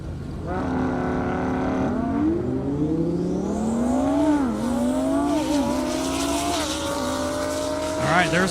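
Lamborghini Huracan race cars, one a 2016 model with 1,300 horsepower, roar down a half-mile airstrip. The engines climb steadily through the gears, loud and close, with rising pitch sweeps and a crowd or announcer faintly underneath.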